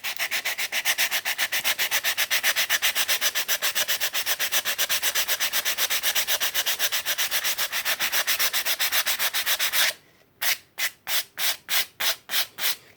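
Wood hand-sanded back and forth with coarse 80-grit sandpaper, a steady rapid rasping of many close, loud strokes that turns into slower, separated scrapes near the end, with no voices.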